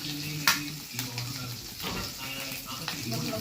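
Mustard seeds spluttering in hot oil while cooking prawn upma, a close, steady frying hiss with scattered pops and utensil taps, a voice talking faintly underneath.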